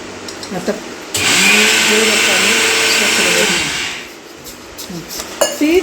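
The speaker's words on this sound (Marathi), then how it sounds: "ते आता मी छान मिक्सरमध्ये वाटण करून घेते" A mixer grinder grinds dal for laddoos, whirring loudly for about three seconds, a steady high-pitched motor roar that starts abruptly and winds down, with kitchen clinks around it.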